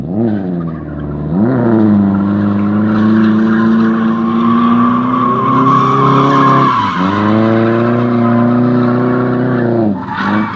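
A car engine screams at high revs in second gear at full throttle as tires squeal continuously through a long drift, with a brief dip and surge midway, loud and close.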